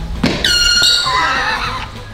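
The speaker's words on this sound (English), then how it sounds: "What is that? It's an air horn!" Handheld air horn blasting once, a loud, piercing sustained honk that starts abruptly and tails off over about a second and a half, close by.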